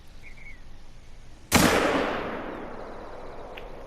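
A single loud gunshot fired at a turkey on a hunt in the Rockies, a sharp close crack followed by a long decaying echo rolling across open terrain.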